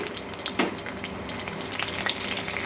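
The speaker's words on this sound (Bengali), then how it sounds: "এবারে এই তেলের মধ্যেই প্রথমেই দিয়ে দিচ্ছি রসুন কুচি" Chopped garlic dropped into hot oil left from frying pakoras, a bright crackling sizzle with occasional stirring clinks, close and steady throughout, no talking.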